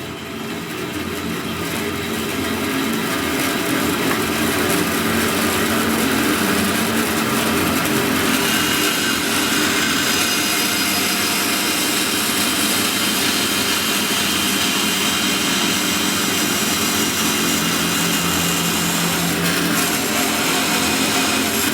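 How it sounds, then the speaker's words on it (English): A bandsaw fitted with a fine-toothed metal-cutting blade slices through plexiglass, a loud, steady whining drone with grinding rasp that holds continuously from start to finish with no talk. "I'm going to use the bandsaw"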